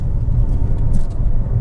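A 2015 Fiat 500 0.9 TwinAir S hatchback drives on the road during a test, its engine and tyre rumble forming a continuous, steady low drone heard from inside the car.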